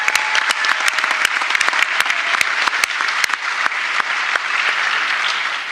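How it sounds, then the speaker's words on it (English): Loud crowd applause at an outdoor MLB and New York Mets event honoring former All-Star Game MVP George Foster, many hands clapping steadily with sharp individual claps standing out close by. "How about a round of applause for former All-Star Game MVP"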